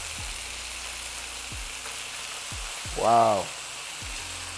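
Hibachi-style steak bites sizzle steadily in a hot pan, a constant close frying hiss, with soft thumps as pieces are flipped one at a time and a brief exclamation from a voice partway through.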